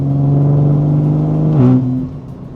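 BMW G80 M3 in Sport Plus with a catless downpipe and equal length midpipe, a loud raspy exhaust drone held steady, then a quick blip as the revs shift and drop back to a lower idle.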